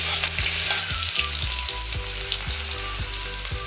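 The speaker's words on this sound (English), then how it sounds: "now we add the garlic to be fried" Garlic fries in a pan with a loud, even sizzle and crackle, joined by quick rhythmic scrapes of stirring.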